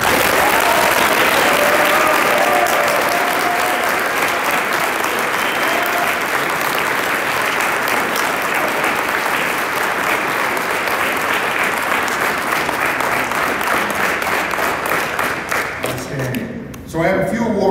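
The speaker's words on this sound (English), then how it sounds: "We'll give them one more round of applause." A large banquet audience at a youth academy awards ceremony applauds steadily and loudly for nearly the whole stretch, a dense wash of clapping that thins out near the end.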